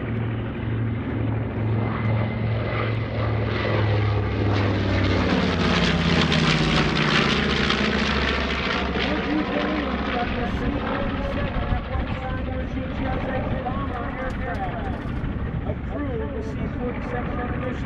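Yankee Warrior, a WWII B-17 bomber from the Delaware Aviation Museum, passes with a steady propeller-engine drone that swells and fades over about 18 seconds, with talk running over it.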